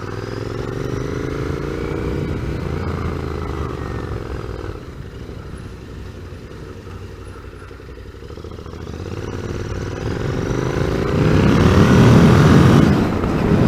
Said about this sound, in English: The motor sounds great.